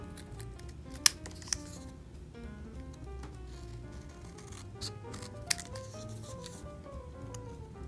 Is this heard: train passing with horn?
no